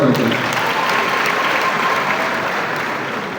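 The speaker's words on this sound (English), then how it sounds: "Please, a round of applause for her." A large audience at the NBA 2024 Annual Conference in Lagos bursts into dense, sustained applause that stays loud and even, fading slightly toward the end.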